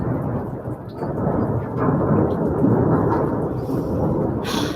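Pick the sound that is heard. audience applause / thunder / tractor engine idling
thunder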